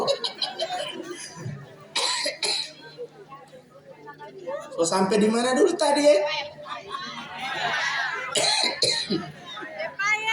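Several harsh coughs break out among voices during a religious lecture in Gorontalo, with people talking and chatting around them at close range.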